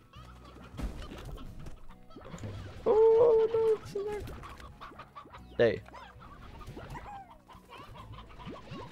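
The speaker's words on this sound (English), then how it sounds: "You've got a chicken you can eat." Chickens in the video game Slime Rancher clucking and squawking, with a couple of louder honking calls standing out, under a player's casual talk.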